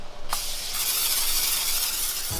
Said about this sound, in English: you do want to spray it with some nonstick spray